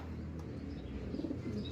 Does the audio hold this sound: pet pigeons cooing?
yes